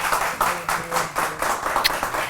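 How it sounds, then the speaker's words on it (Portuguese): A studio audience claps for a guest writer on a television interview show, a dense, steady burst of close applause running the whole time with a few brighter slaps standing out. "Agora eu quero que vocês aplaudam para valer."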